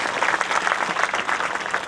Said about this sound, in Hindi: एक बार जोरदार तालियां उनके लिए बजाएं।